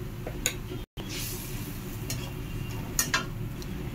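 Ground spices (cumin, coriander, turmeric, Kashmiri red chili powder, green chili paste) stir-fried in a pan with fried eggplant and potato: a steady close sizzle with a few sharp scrapes and ticks of the spoon.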